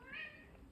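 A cat gives a single short meow, fairly close and moderately loud, followed by a low background murmur.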